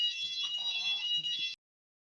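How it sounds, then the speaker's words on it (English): A home fire alarm sounds with a continuous shrill high-pitched beeping tone, with faint background noise beneath it, then cuts off abruptly partway through. "My fire alarm has gone off."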